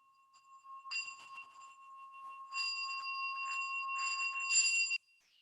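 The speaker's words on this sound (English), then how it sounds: "And let's send off our intention with the bell." A bell rung to close a slow-flow hatha yoga session gives several bright, clear metallic strikes with long sustained ringing tones, a gentle first strike followed by louder repeated ones, alone in a quiet room.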